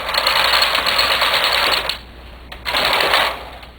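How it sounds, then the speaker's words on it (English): A domestic knitting machine carriage sweeps one row from right to left to form a zigzag row in very thick yarn, making a steady loud rasping clatter that stops briefly and then resumes for a shorter second pass. "I'm going to knit 1 row from right to left to put the zigzag row in"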